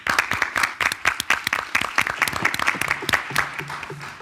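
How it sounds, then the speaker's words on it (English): Sustained audience applause at a health care meeting with a presidential special assistant, dense overlapping claps filling the room fairly loudly throughout, a faint low voice creeping in near the end. "I hope you heard those applause"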